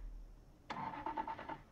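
A car engine starts in the video game Project Zomboid, with a quiet, sputtering crank of rhythmic pulses that settles into a low running hum.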